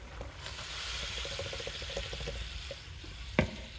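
Squid is added to a hot pan for adobong pusit and sizzles softly and steadily, with faint stirring scrapes and a sharp clack near the end.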